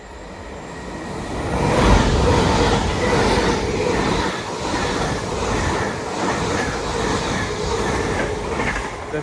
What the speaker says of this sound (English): passing through now is an LNER Azuma en route from Harrogate to London King's Cross.